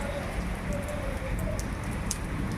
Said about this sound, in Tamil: இப்போ மழை பெய்ய ஆரம்பிச்சிருச்சு.